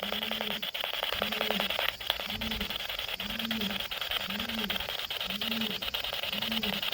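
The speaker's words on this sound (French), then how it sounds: "J'ai jamais entendu un pigeon grogner comme ça." A pigeon grunts in a low, steady rhythm, with short throaty calls repeating about every second over a constant background hum during a night investigation indoors.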